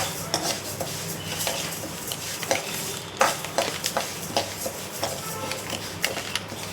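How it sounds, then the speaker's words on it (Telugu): Dry fruits are lightly roasted in a pan, with a metal spoon scraping and clinking against the pan in an irregular stirring rhythm, close and fairly loud, under a faint background hiss. "లైట్గా అన్ని లైట్గా వేపుకుంటున్నానండి"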